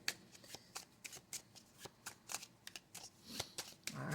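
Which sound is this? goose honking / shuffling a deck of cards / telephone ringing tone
shuffling a deck of cards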